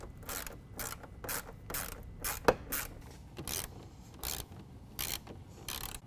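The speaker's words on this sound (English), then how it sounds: "we're going to hold the bracket in place and tighten them down" Fender flare bracket screws for Bushwacker pocket-style flares being tightened down, a steady run of short ratcheting clicks in regular bursts with one sharper snap midway, close and alone.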